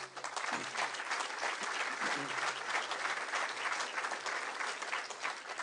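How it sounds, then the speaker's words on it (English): An audience gives a sustained round of applause for Chicago Transit Authority staff at an event with the CTA president. Many hands clap thickly and evenly throughout, with a faint murmur of voices underneath. "give them a round of applause because they're the ones that make the CTA run"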